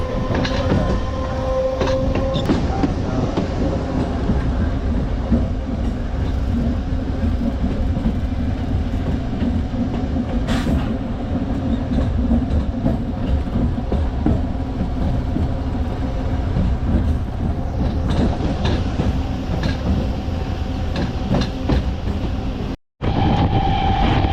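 Narasapur MEMU Express 17269 running at speed, a steady loud rumble of wheels and carriage noise throughout with rhythmic clatter, a brief dropout near the end.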